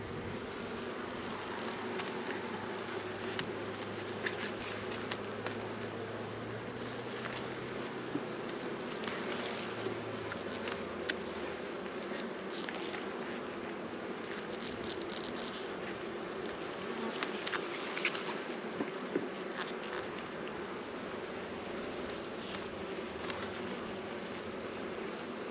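Honey bees swarm around an opened hive during a spring inspection, a continuous, dense buzzing hum close by that holds steady throughout with no talking.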